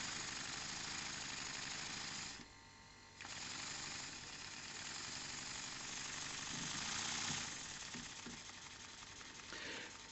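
A Microcosm M30 live steam model engine running on compressed air, giving a steady rapid mechanical chuffing and clatter with a brief dip partway through.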